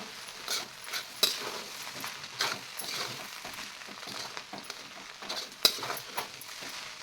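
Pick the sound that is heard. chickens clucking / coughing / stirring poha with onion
stirring poha with onion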